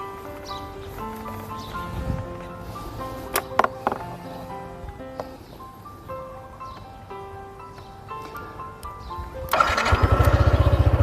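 Soft tonal music plays, then near the end a 2020 Yamaha NMAX scooter engine with about 3,860 km kicks over and starts, settling into a loud, close rattling run.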